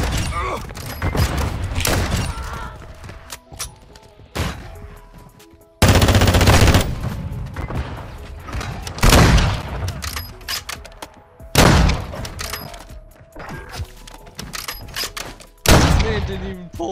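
Rapid automatic gunfire from the video game Call of Duty Modern Warfare 2 comes in loud repeated bursts with sharp single shots and thuds between them, and players talk over the action.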